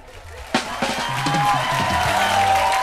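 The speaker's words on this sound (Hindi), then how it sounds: "गोविंदा जी के लिए जोरदार तालियां हो जाएं।" Studio audience at a comedy stage show breaks into applause and cheering for Govinda, starting with a sharp burst and swelling into a continuous roar with a whistle-like tone rising through it.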